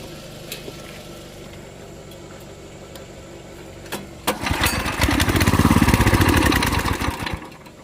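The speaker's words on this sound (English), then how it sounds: "Now this engine is being stupid." A Coleman go-kart engine idles roughly with a low putter, then revs up into a loud, strained, lawn-mower-like drone that holds for a few seconds before it drops off.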